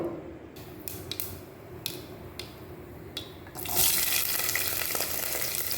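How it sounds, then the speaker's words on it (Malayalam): Mustard seeds hitting hot coconut oil in a pan, a few sharp crackling pops over a low background, then a dense loud sizzle that holds to the end. "വറുത്തി കടുകും ഇട്ടു."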